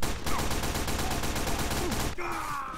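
Rapid sniper rifle fire in Team Fortress 2, loud sharp shots in a fast regular burst for about two seconds, then an abrupt cut to other game sounds.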